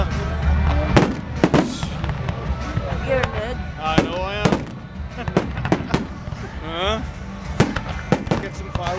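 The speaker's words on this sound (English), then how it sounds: "Get some fireworks behind me." Halloween fireworks going off as repeated sharp bangs and crackling bursts, some with rising whistles, scattered across the scene while people talk and joke nearby.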